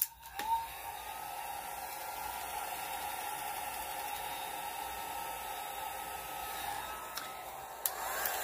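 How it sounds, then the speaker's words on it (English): A hair dryer blows with a steady whooshing hum over alcohol ink artwork, running continuously at close range, with a couple of brief clicks near the start and end. "That's why I should have got my blow dryer."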